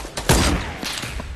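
Gunfire in a PS4 video game, with a burst of several quick shots followed by scattered softer reports, fairly close and heard alone without talk.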